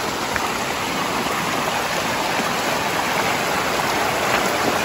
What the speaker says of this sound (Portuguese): Riachozinho aqui.